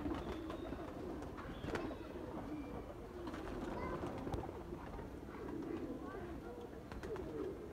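A high-quality pair of Sialkoti pigeons, a male and a female, coo softly in the background. The soft calls repeat over a steady ambient hum, and someone talks over them.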